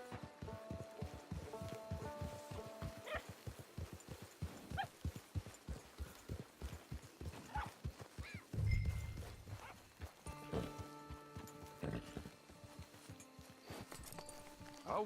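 Horse hooves gallop in a video game, a fast rhythmic clip-clop close by with a short whinny partway through, running continuously under music tones.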